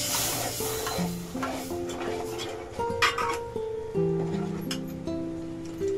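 Water poured from a mixer jar into cooked masala that has released its oil in a pan, hissing and sizzling under stirring with clinks of utensils, close and steady.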